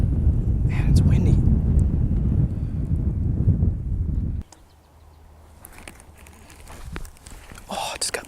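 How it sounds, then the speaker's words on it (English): Strong wind buffeting the microphone on a golf course, a loud rumbling gust for about four seconds that drops suddenly to a softer breeze with faint rustling. "Man, it's windy."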